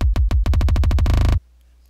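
Rhythmic gating stutter effect set to 64th notes in Logic Pro X: a loud bass-heavy tone chopped into quick pulses that speed up into a rapid buzzing flutter, then cut off abruptly into a faint low hum.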